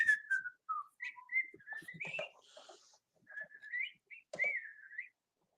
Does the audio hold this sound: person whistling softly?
yes